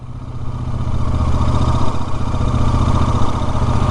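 Royal Enfield Super Meteor 650 motorcycle being ridden: a loud, steady twin-cylinder engine thrum with a low rumbling pulse and some mechanical clatter, building up at the start and then holding, with no talk.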